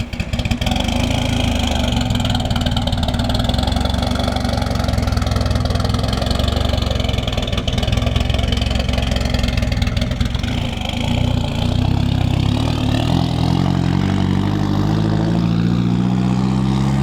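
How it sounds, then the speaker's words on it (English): A mid-engine Mitsubishi Eclipse idles steadily and loudly for the whole stretch, its idle set a little low so the engine note sags and wavers near the end. "Idle's a little low, so you can hear it stop a little bit."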